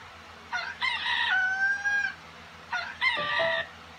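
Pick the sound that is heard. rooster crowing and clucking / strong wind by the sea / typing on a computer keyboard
rooster crowing and clucking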